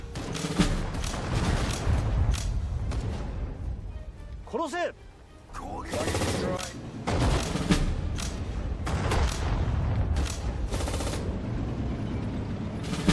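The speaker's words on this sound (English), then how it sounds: "All right, more grenades coming." Grenade explosions in Sudden Strike 4 during a Battle of Bataan mission, repeated booms and crackling gunfire bursts spread across the scene, loud and dense, with a brief quieter gap and a short voice-like call partway through.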